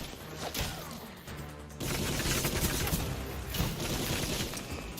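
Rapid gunfire from the video game Gotham Knights rattles alongside crashing, smashing combat effects, loud and continuous through a dense, chaotic battle mix.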